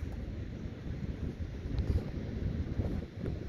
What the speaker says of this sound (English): Oh, the wind's pretty fucking cold.